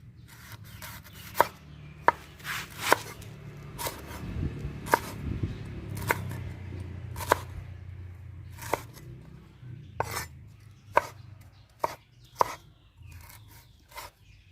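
A knife slices through roasted young galangal in a string of about a dozen crisp, close chops at an uneven pace, with a soft rustle between the cuts.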